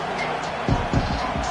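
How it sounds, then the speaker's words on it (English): Dense roar of a college football stadium crowd at LA Tech versus Alabama, a loud continuous wash of cheering with sharper surges as fans make noise for their defense. "Listen to this crowd just shaking the girders of this place, trying to help their defense."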